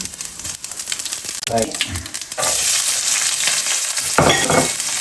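Mustard, fennel and cumin seeds drop into hot oil, and a loud, crackling sizzle suddenly swells and holds steady, with brief speech before and during it.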